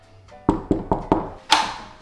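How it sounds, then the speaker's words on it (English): Knocking on a house door in a Philadelphia home: four quick, evenly spaced raps, then a single heavier thump, close and fairly loud in a quiet room. "You wanna knock?"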